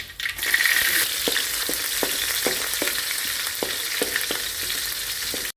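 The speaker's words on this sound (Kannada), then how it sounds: "ಈಗ ಮೆಣಸಿನ್ಕಾಯಿ ಹಾಕೋತೀನಿ." Green chillies sizzle in hot oil with cumin and mustard seeds, a dense continuous frying hiss punctuated by regular spoon scrapes and stirs roughly every half second, close and fairly loud, with no voices.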